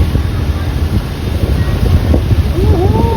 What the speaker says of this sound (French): Je passe sur des grosses vagues là.